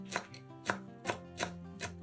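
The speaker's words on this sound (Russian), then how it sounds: "Нарезаем пучок петрушки." Five crisp knife chops through a bunch of parsley on a cutting board at an even pace, close and distinct, with soft music underneath.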